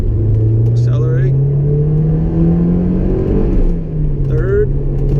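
A Honda S2000 on a test drive accelerating, its engine note climbing steadily in pitch, close and prominent, with brief voices over it.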